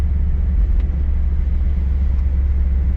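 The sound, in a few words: car with 305 TBI engine sputtering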